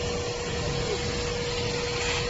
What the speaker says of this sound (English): every place you can clean this with the vacuum cleaner